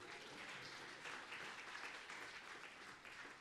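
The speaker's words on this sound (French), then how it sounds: "Vous pouvez applaudir." An audience at a French conference on entrepreneurship and Europe in Saint-Germain-en-Laye breaks into sustained applause, a fairly distant, even wash of clapping that holds steady throughout.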